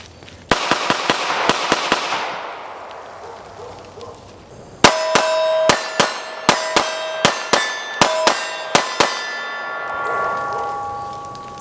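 Rapid shots from an Arex Rex Zero 1S 9mm pistol crack out in two separate strings, loud and sharp, each report ringing briefly with a metallic tail, outdoors at a range.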